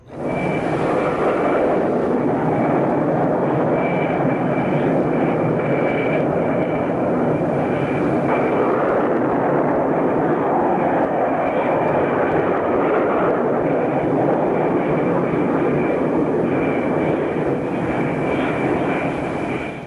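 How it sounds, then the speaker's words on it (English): F-4E Phantom jets launch by catapult from an aircraft carrier deck with a loud, continuous jet engine roar that holds steady throughout, broad and rushing with a faint high whine, with no talk. "This launch sequence continues with up to 4 aircraft dispatched almost simultaneously."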